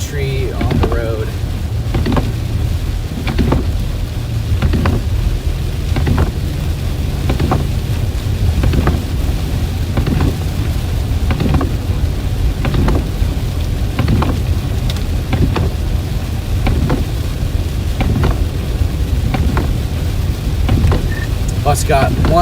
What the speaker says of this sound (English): Got some pretty gnarly freezing rain here near Belzoni